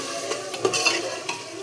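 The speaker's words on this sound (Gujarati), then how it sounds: "ચાલો મસ્ત જો આપણે વઘાર નાખ્યું છે" Spice tempering for vegetable khichdi sizzles quietly in a pan, with a soft steady hiss broken by a few light clicks and scrapes from a stirring utensil.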